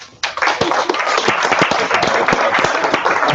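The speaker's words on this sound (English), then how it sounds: "Let's do another round of applause." A lecture-series audience breaks into applause for a presenter, sudden and loud, with sharp individual claps standing out over a steady crowd patter.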